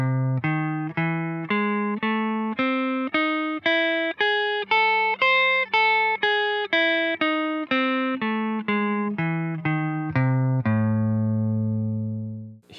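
A guitar picks out a minor major 7th arpeggio with an added sharp fourth, playing clean, evenly spaced single notes up and back down before ending on a sustained ringing chord.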